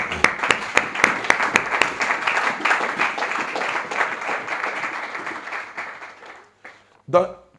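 A church congregation applauds the Lord in rhythmic, quick claps mixed with crowd voices. The clapping fades toward the end, and a single voice then breaks in briefly.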